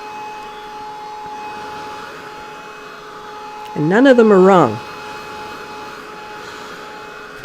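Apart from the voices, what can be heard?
heat tool blowing hot air to dry watercolor paper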